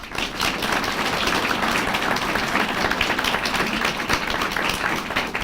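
An audience at a debate event claps loudly and continuously, a dense, close patter of many hands with scattered sharper claps, sustained throughout.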